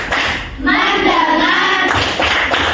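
Rhythmic hand clapping in a classroom clap chant, a short patterned burst of claps led by a teacher, with voices chanting over part of it.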